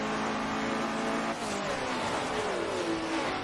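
Race cars in a video game accelerate back under green flag at the Rio circuit in a GT4 event, engines rising and whining in pitch with a pass midway, a continuous moderate roar with faint tire squeal.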